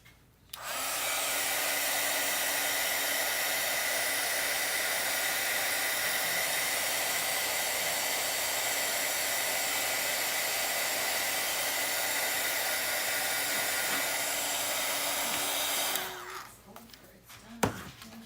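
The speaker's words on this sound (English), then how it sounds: "Hit this with the heat gun really quickly." A heat gun blows hot air onto paint in a long, steady, loud hiss and whoosh that runs about fifteen seconds, then switches off, followed by faint handling noises.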